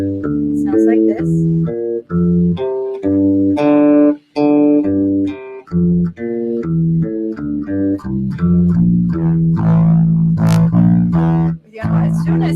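A guitar plays a scale in fifths, two notes ringing together, stepping through a sequence of clear, sustained pitched dyads with short breaks between some notes and no talking over it.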